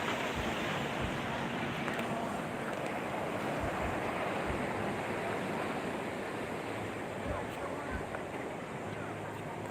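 Steady ocean surf and wind at Purus Beach in Padang in the morning, a continuous broad wash of waves with wind buffeting the microphone and occasional low thumps.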